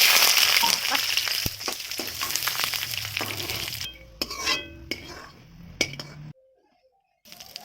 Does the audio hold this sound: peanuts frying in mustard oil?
yes